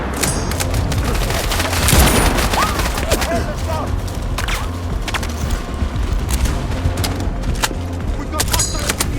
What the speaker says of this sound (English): There's a frag.